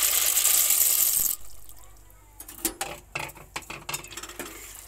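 Dry macaroni pasta tipped into a pot of rolling boiling water on a home stove: a steady hiss of boiling first, then a quieter stretch broken by a run of sharp, close clicks and taps as the pieces drop in.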